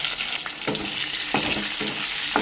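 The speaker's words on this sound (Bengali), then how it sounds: "তেলটা আবার গরম হচ্ছে, এটার মধ্যে ছাড়। এবার আমি আলুগুলো ছেড়ে দিচ্ছি।" Potato pieces fry in hot oil just used for tilapia, giving a continuous loud sizzle with a few distinct scraping stirs of a spatula in the pan.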